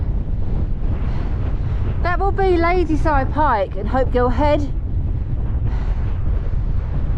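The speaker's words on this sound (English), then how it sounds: "God, it's windy up here" Strong wind buffets the microphone on the summit of Hobcarton End in the Lake District, heavy continuous roaring gusts, and someone speaks briefly partway through.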